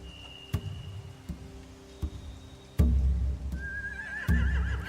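Horses whinny in a tense night scene from the video game The Walking Dead, with shrill neighs rising over a low rumbling background and a few sharp thuds scattered through.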